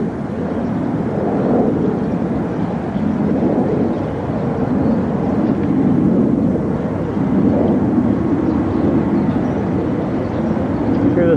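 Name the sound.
jet aircraft flying overhead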